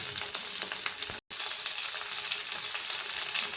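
Curry leaves and dried red chilies frying in hot oil for tomato coriander chutney, a bright, continuous crackling sizzle with a brief cut near the start, close and fairly loud.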